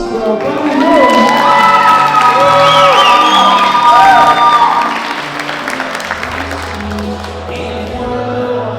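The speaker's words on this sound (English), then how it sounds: "big round of applause for Brian" A wedding crowd applauds and cheers for a guest named Brian, loud clapping with whoops and shouts that swell, then ease into softer scattered applause and chatter.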